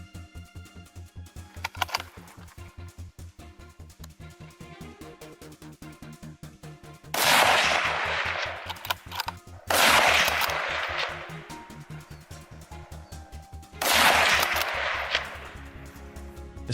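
Rapid rhythmic shots from a hunting gun aimed at wild boar, a long rattling series of loud reports with several heavier blasts, continuous over the whole stretch.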